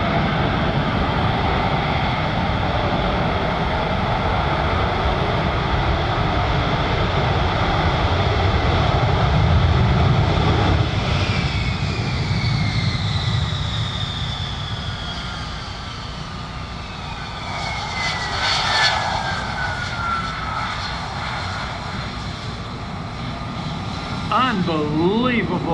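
An F-35B Lightning II jet approaching to land at an airshow, a loud continuous roar with shifting whining tones as it nears, while a commentator talks over it throughout.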